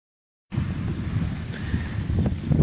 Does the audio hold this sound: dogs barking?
no